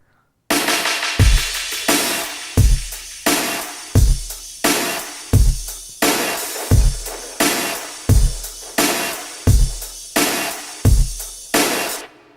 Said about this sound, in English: this is the sound of the drums basically.